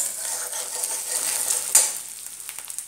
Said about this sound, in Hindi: मसाला को थोड़ा भून लेंगे